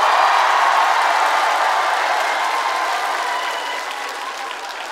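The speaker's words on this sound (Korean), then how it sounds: "그 박수 강도가 여기가 좀 쎘어" A studio audience at a 2019 year-end special of a youth singing contest claps hard and steadily. The thick, loud applause fills the room with crowd noise and slowly fades toward the end, with no clear speech over it.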